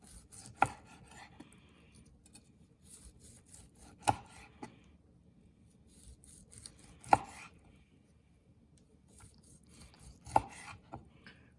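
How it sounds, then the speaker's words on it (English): A sous vide NY strip steak being sliced on a board, with four distinct sharp knife strokes a few seconds apart over faint scraping and rubbing, close and with no talk. "we're gonna slice a few pieces off and see how it came out"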